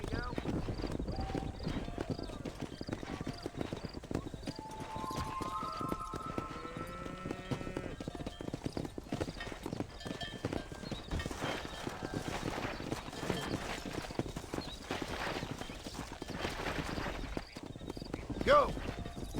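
Horses gallop in the Red Dead Redemption video game with a continuous rhythmic clatter of hooves and an occasional whinny, while voices shout over the herd.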